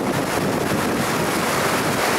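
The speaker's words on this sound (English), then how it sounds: "even though it's windy right now" Steady roaring wind buffets the microphone, a constant dense rush with no pauses and no voices.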